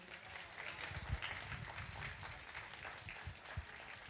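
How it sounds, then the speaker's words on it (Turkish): An audience at a 2018 graduation ceremony at an apprentice training centre claps steadily, a dense wash of many hands that goes on at even, moderate loudness the whole time. "Sizlerin alkışlarıyla önce onları isterseniz hep birlikte destek olalım."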